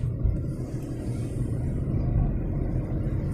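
A car drives along a Cape Town street, heard from inside as a steady low road rumble and engine drone with small bumps, no talking.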